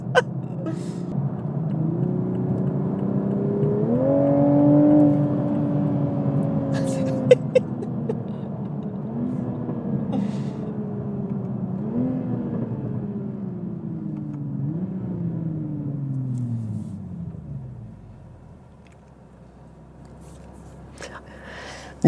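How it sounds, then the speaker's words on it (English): A 2021 Toyota Supra pulls away and climbs through several gears, its engine note rising and dropping with each shift and turbo whoosh, then easing to a low idle rumble, heard from inside the cabin. "oh man, and I just love hearing the turbos"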